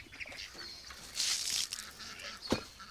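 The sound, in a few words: ducks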